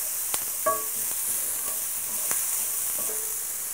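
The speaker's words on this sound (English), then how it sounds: "And just saute that just gently for about a minute." Garlic, about six cloves, sautés gently in a frying pan with a soft continuous sizzle, broken by a few light clinks and stirring scrapes of a utensil against the pan.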